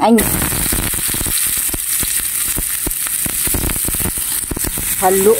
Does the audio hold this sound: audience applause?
no